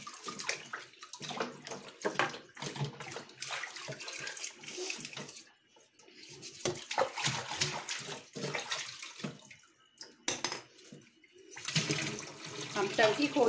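Water gushes from a tap in bursts, splashing and running into an aquarium tank, fairly close, starting and stopping several times.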